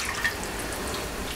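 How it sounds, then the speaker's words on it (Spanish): Chicken broth pouring steadily into a pot, a continuous splashing trickle with a faint drip sound, close by and moderately quiet. "voy a ponerle un poco de caldo de pollo"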